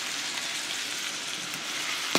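Food frying in a skillet gives a steady, close sizzle with faint stirring scrapes, ending in a single sharp clink of the utensil against the pan.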